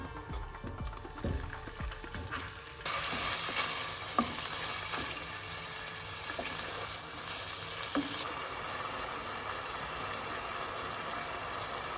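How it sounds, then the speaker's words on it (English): Steady, loud sizzling of food frying in vegetable oil and butter in a frying pan, with some stirring and clatter in the pan, continuing throughout. "In a frying pan, add vegetable oil and butter."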